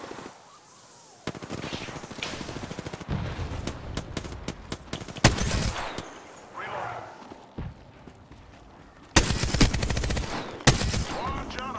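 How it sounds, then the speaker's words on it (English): Gunfire in the battle royale shooter Apex Legends: bursts of rapid automatic shots in several separate volleys, loud and near, with voice chatter in between. "Opening fire."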